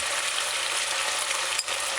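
Steady, dense sizzling of chicken pieces frying in hot oil, a continuous bright crackle with one brief scrape or stir near the end.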